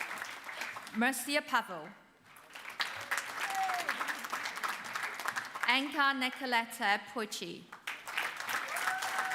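Steady applause for graduates at a university graduation ceremony, a large audience clapping continuously while an announcer reads out names over it.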